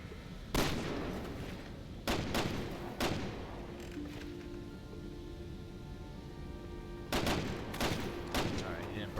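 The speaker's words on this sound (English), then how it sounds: "This is a far shot with a pistol" Pistol shots in Resident Evil 6, sharp isolated cracks fired in small clusters with pauses between them over a steady background hum.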